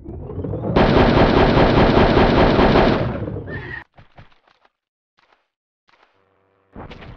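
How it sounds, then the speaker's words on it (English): Gunfire in the Hogs of War video game on the glacier mission: a loud, dense burst of rapid machine-gun fire for about three seconds, then a few scattered shots and thuds, and a brief loud shot at the end. "I shot real gun!"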